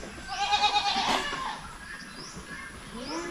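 Goats on a farm bleat close by, with a loud wavering cry early on followed by fainter calls over quiet background noise.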